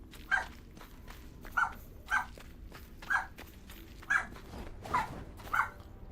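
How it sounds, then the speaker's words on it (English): A dog barks repeatedly at a steady pace, about seven sharp barks spread over several seconds, fairly close against a low background rumble, with no speech. "I don't know what you're barking at, but it ain't that serious"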